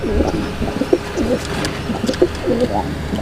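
Farm pigeons coo in repeated soft, throaty rolling calls, several bursts close to the microphone over a low background hum.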